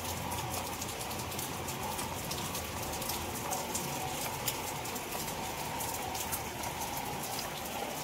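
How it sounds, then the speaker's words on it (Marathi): Steady rain falls outside a kitchen window, an even continuous patter of drops on surfaces, with occasional faint bird sounds in the background. "आज चक्क पाऊस पडला."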